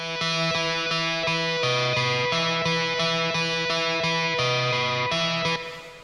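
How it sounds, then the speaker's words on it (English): Guitar through a Sound City amp drives a steady repeated eighth-note pattern with shifting chords, crunchy, slightly distorted and loud, chugging evenly before stopping at the end. "I've also got a Sound City amp. That is the one that's playing like a repeated 8th note pattern in the chorus"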